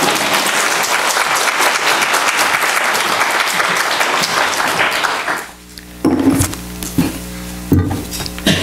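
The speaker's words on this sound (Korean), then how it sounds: "환영하는 박수에" A church congregation breaks into loud, dense applause to welcome a preacher coming up to deliver the sermon. The clapping is sustained for about five seconds and then cuts off abruptly, leaving a few scattered room noises.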